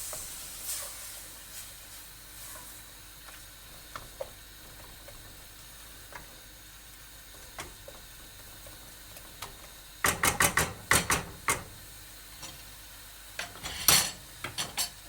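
Garlic and tomato frying in a pan for Moroccan yellow split pea bessara, a soft steady sizzle beneath sharp bursts of utensil scraping and clinking against the pan, loudest near the end.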